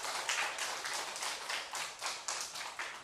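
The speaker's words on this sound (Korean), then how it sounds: "우리 다 함께 하나님 아버지께 큰 박수 올려드리겠습니다." A church congregation at an autumn Holy Spirit service claps together in a dense, rhythmic wave, the pulses evenly spaced and steady, heard somewhat distant and quiet.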